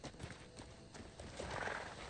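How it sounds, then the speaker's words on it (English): Horse hooves clip-clop in a video game as a mounted character rides off, a faint steady rhythm of soft hoofbeats under a low game soundscape. "We're gonna get there on horseback."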